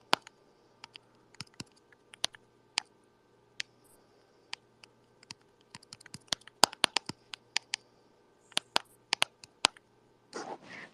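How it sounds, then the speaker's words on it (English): Keyboard typing in scattered clicks and short flurries, quiet and close, over a near-silent background, with a brief rustle at the end. "hear you typing"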